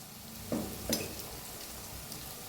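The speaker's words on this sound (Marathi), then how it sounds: "मिक्स करून घेऊया मिक्स करून भाजूया छान असं" Steady soft sizzle of turmeric, coriander powder and Kolhapuri red chili powder roasting in a pan for eggplant curry, with a couple of brief scraping stirs near the start.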